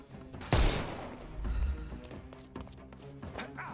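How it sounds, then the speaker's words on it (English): A gun fired in the Sherlock Holmes: Chapter One video game: one sharp, loud shot followed by a few softer thuds and impacts, with no talk. "Oh god, I gotta use the gun and not kill."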